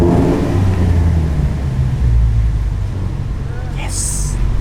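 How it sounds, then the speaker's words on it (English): A 4-cylinder car engine revs and rumbles in a parking lot at a Caffeine and Octane meet at Atlanta Motor Speedway, a loud steady drone with rising pitch, while people talk nearby. "it is a 4-cylinder, but it does sound amazing in the morning, especially in Atlanta traffic"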